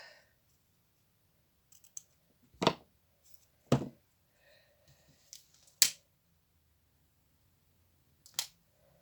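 Several sharp scissor snips cutting ribbon for a hanging wedding bouquet, spaced irregularly as separate crisp clicks against a quiet room.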